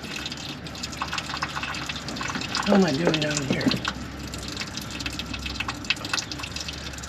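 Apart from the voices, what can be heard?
engine coolant draining and dripping into a drip pan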